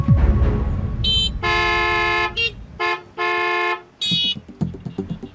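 Cars stuck behind a stopped car honk repeatedly: a run of loud car-horn blasts, some short toots and some long held ones, with a rumble of traffic at the start and end.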